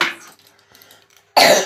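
A single sharp cough bursts out at the end, close and loud, after a quiet stretch of faint room noise.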